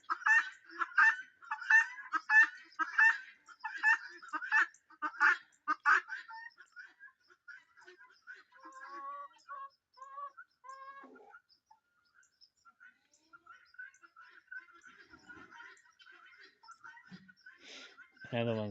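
Chickens on a farm call as they head into their coop. A quick run of loud, rhythmic honking clucks opens, then gives way to softer, scattered chatter and chirps.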